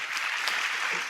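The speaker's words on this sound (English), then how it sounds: "And a big applause for them as well." A brief burst of applause from a crowd, steady clapping that fills the whole moment.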